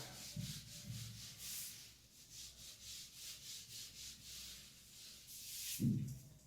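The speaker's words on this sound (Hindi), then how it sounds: "ठीक है मैं इसको रब कर देता हूं एक बार" An eraser rubs chalk writing off a classroom board during a chemistry lesson, a quick series of soft scratchy back-and-forth strokes close by, with a couple of light knocks and no talk.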